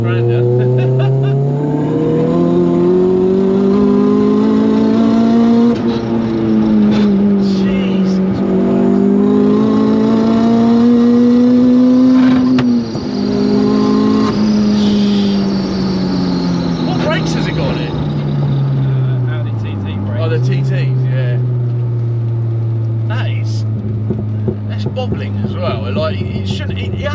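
A 412bhp VW Lupo GTI with a 1.8T engine accelerates hard from inside the cabin, its loud engine drone climbing through the gears with pitch rises, dips at shifts and a deep drop near the end. Occupants talk over it.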